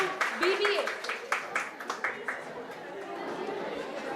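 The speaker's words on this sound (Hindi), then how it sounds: "अरे आप लोग तालियां बजाइए" An audience claps at a 75th Republic Day celebration in 2024 at Dr. Zakir Husain Institute on Boring Road. Scattered, uneven hand claps in a hall run under a talking voice and crowd chatter.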